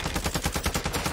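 Rapid bursts of video game gunfire during a rooftop firefight, loud and close, firing in a steady fast rhythm for the whole moment without any voices.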